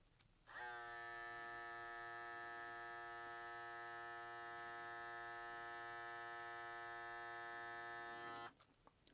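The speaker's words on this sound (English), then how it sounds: "So now we'll check the sound, starting off with the Andis Phenom." Andis Phenom hair clipper switched on and running alone for about eight seconds, a steady, loud electric buzz with a strong even hum that starts and stops abruptly.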